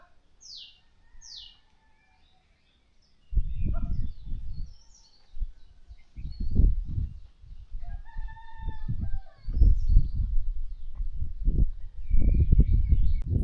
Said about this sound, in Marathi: फक्त पाखरांचा आवाज येतो आहे.